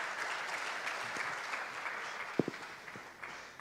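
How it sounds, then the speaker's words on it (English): A conference audience on a main stage applauds the panelists with steady, dense clapping that holds throughout, a few sharper claps standing out near the end. "A big applause for the panelists, for Ana Laura"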